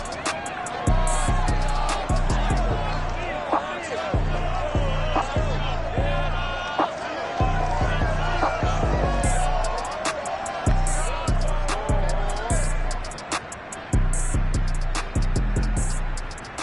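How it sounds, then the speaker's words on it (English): Stadium crowd at Lumen Field in Seattle during a Giants versus Seahawks game in an EA Sports NFL video game, a steady loud roar with rhythmic thumping and cheering under a commentator's voice. "This crowd, as we've come to expect in recent years, as loud as any in the NFL"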